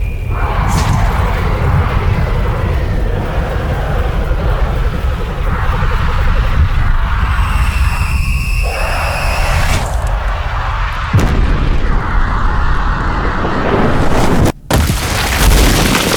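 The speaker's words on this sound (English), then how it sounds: "all that, you know, like tree destroying and dirt sounds is a whole nother kind of layer" Layered anime fight sound design with heavy booms, crashing tree destruction and scattering dirt impacts. A dense, continuous roar swells and breaks into bursts, ending with a sharp cut and a final impact, with no talk.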